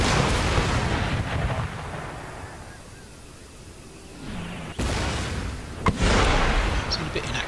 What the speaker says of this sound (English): Should be able to get another barrage.